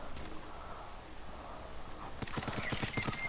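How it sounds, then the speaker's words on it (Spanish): Gunfire in the Fortnite video game: a distant, faint rattle of rapid shots that becomes a closer quick burst of sharp cracks near the end. "Oigo tiros."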